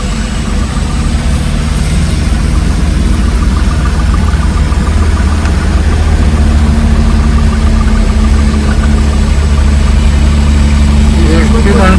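A truck's engine idles steadily in a traffic jam on a ghat road, a continuous low rumble that stays loud and even throughout, with a voice speaking over it.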